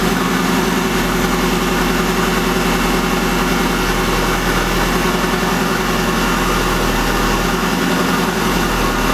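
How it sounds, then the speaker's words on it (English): A car with a K-Tuned throttle body, running a K-Pro engine management system, idles close by, a steady, loud, low rumble with constant vibration and no change in pitch across the stretch. "Sound like it's idling better."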